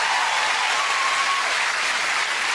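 Steady, dense applause from a studio audience at a televised family game show, loud and continuous throughout with no pauses.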